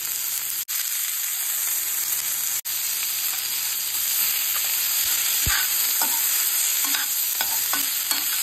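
Tofu fries in a hot pan for fried rice with cabbage and capsicum, a steady close sizzle with occasional stirring scrapes and light clinks throughout, no voices.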